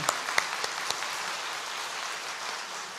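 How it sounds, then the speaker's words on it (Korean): A church congregation at a Sunday service applauds with a steady wash of clapping that opens with a few sharp, distinct claps and then settles into an even, moderately loud patter. "박수 한번 할까요?"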